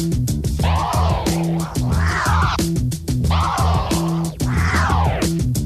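DJ baby scratches cut back and forth at half rhythm over a looping beat, with repeated sweeping record scratches pulsing in a steady pattern.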